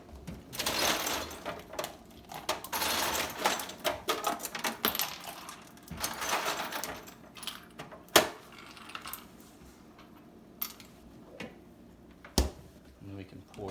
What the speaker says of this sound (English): I'm gonna fill this with ice now.